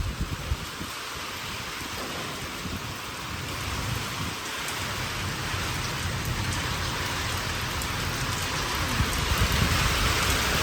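Heavy rain pours steadily onto surfaces outdoors, a loud, unbroken hiss that holds for the whole stretch and swells slightly toward the end, with no voices.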